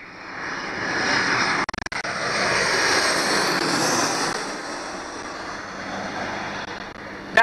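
A low-flying airplane passes overhead near Gravelly Point in DC, a loud sustained engine roar that swells and slowly fades, with a brief handling bump partway through and no talking.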